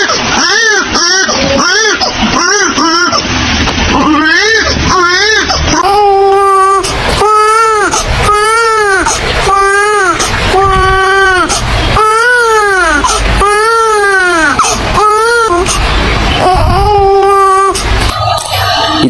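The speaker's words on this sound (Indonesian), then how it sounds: "Hewan ini memiliki suara seperti bayi yang menangis." A salamander calling from a riverbank with a wailing, baby-like cry, repeated in a long run of rising and falling moans, loud and close and continuous throughout.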